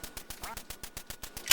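Rapid, evenly spaced quacks from a duck in the Duck Hunt video game, about a dozen sharp electronic blips in steady rhythm, close and clear with no talk over them, ending on a brighter burst.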